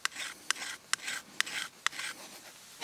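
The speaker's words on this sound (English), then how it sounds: "You can see there how that's filing that down." A Smith's Pack Pal tinder maker scrapes down a fire starter rod in slow, even rasping strokes, about six in a row with a sharp click at the end of each, close up and with no voices.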